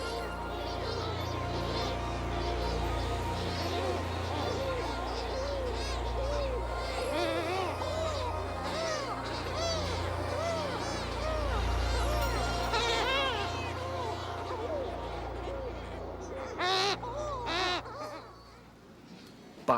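Sooty shearwaters, or mutton birds, return from the sea to their island burrows at dusk, raising a dense, continuous chorus of wavering, moaning calls that overlap loudly throughout before thinning out near the end.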